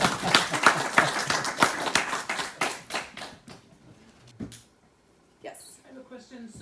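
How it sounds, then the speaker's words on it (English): Audience clapping after a talk on a maritime apprenticeship program, a burst of sharp, close hand claps that thins out and stops, followed by scattered taps and quiet voices. "Oh, you can clap first."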